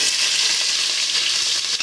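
Onions fry in a pan for yam porridge with beans, giving a loud, steady, dense sizzle that holds without a break and has faint scraping stirs under it.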